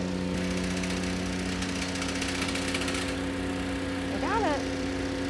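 A compact tractor with a boom-mounted sickle mower runs steadily, a droning engine hum under a rapid chattering cutter that stops partway through, with a brief voice-like warble near the end.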